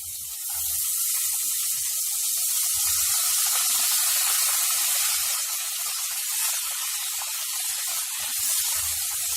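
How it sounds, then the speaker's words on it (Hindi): Finely chopped onions, two medium ones, frying in a pan for restaurant-style paneer lababdar make a steady broad hiss, loud and continuous throughout, with no voices. "अब हम इसमें ऐड करेंगे बारीक कटी हुई प्याज।"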